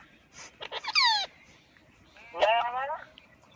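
A talking parrot heard over a mobile phone line gives two short, squawky, chattering calls with rising and falling pitch, separated by a brief quiet gap.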